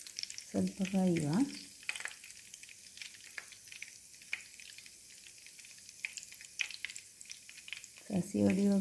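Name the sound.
mustard seeds popping in hot oil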